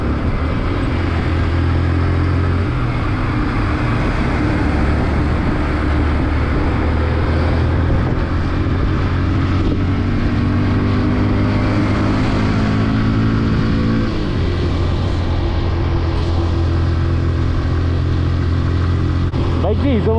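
A freshly serviced motorcycle engine runs steadily and loudly throughout a ride on a mountain road toward Kalinchowk, its low drone continuous with slight pitch changes and a brief shift midway, while a voice talks over it.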